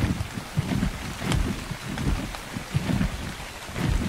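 Rain falls steadily in ARK Survival Evolved, a dense hiss with soft low rumbles rising and falling throughout, and no voices.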